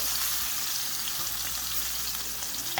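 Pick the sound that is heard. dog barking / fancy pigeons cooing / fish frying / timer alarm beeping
fish frying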